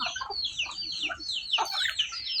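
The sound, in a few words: chickens clucking on a rural farm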